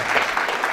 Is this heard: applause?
yes